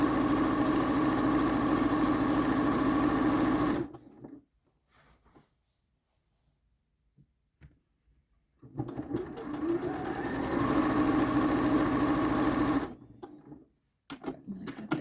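A sewing machine runs steadily while stitching the binding end of a quilt, a loud continuous whir for several seconds, then a pause with small clicks before a second long burst of stitching.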